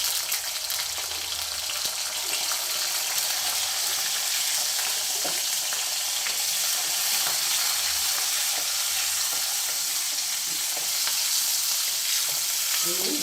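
Green chillies frying in hot oil for a ridge gourd peel and coconut chutney, a steady, close, bright sizzle that crackles without a break and with no talk.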